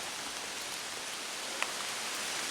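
Steady rain falls outdoors in Groton, Vermont in June, a soft, even hiss of drops on surfaces with no pauses and no one talking.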